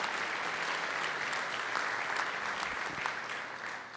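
Sustained applause from a conference audience at a cryptography rump session, a steady dense wash of clapping from many hands in a large hall, fairly distant and even throughout.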